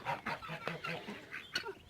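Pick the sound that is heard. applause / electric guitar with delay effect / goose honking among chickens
goose honking among chickens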